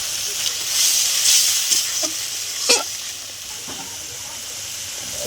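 A spice paste of onion, garlic, tomato, red chilli, cumin powder, turmeric and yogurt frying in a pan, with a steady close sizzle and hiss and a few stirring scrapes, and no talking.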